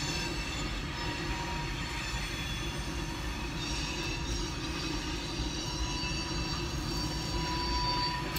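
A train rolls slowly past, a continuous loud low rumble with steady mechanical hum and faint squealing wheels throughout, no speech.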